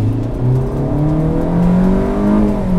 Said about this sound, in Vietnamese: Đấy, tiếng động cơ lọt vào.